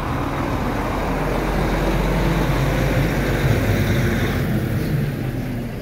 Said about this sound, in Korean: 트럭 한번 통과해야 되겠습니다.